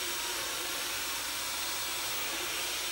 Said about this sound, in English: grinding away a little bit of metal material from the inside of the ring